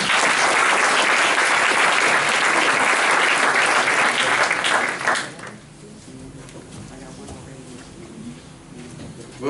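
Audience applause at a military graduation ceremony, a loud dense burst of clapping lasting about five seconds before it cuts off abruptly, leaving quiet room murmur and a faint voice.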